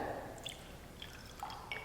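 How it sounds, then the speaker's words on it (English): Liquid, the fruit of the vine, is poured out of a cup during a church classroom storytelling, heard as faint, soft trickling and dripping in a quiet room. "he poured it out"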